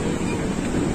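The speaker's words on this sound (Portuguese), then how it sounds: "Olha o vento que tá essa hora." Strong wind blowing at the beach in Caraguatatuba, a loud continuous rush buffeting the microphone, heard alone for a brief moment.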